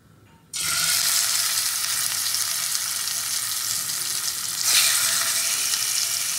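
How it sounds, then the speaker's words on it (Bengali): Pieces of katla fish belly drop into hot oil in a wok and erupt into loud, close sizzling that holds steady, then flares louder again midway, with no talking. "এবার মাছগুলোকে আমি খুব ভালো করে ভেজে নেব।"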